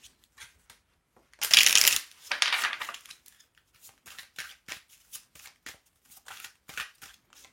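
A deck of tarot-style feeling cards is shuffled close up: one loud riffling burst, then a string of softer, quick card slides and taps, with no talking.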